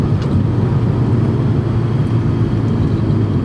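Steady, loud engine drone from a car under way, likely a 2024 Mazda MX-5 Miata ND3 or 2006 Honda S2000 AP2 with a manual transmission; the hum holds even throughout with no clear gear change and no talk.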